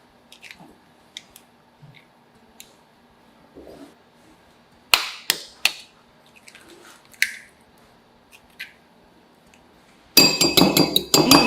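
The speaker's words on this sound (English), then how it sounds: "Crack 2 eggs in a bowl." Two eggs cracked into a bowl for a smashed egg green chili sauce: light clinks and a few sharp cracking taps, then a louder wet, crackling burst near the end, with no talking.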